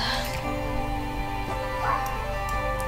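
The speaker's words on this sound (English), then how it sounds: "I'm sorry about the dog barking." A dog barks and yips a few times indoors, fairly close, under the steady tones of Sims 4 game music, with faint talk in the background.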